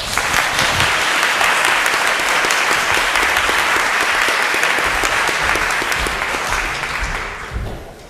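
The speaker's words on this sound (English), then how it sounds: "how about a round of applause for our panel" Loud sustained applause from a symposium audience for a panel, dense clapping that holds steady for several seconds and then thins out near the end.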